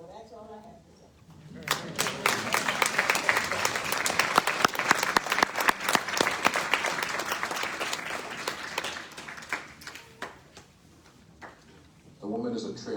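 A live audience gives a sustained round of applause at a Black History Month celebration, dense clapping swelling for about eight seconds before fading, with a speaker's voice briefly before and after.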